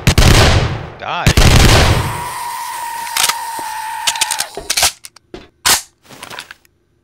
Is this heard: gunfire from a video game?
yes